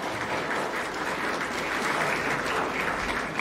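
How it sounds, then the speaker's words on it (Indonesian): Applause from an audience at a talk at ITB fills the whole stretch as a dense, steady wash of many hands clapping, loud and continuous without breaks. "Boleh tepuk tangan, enggak apa-apa."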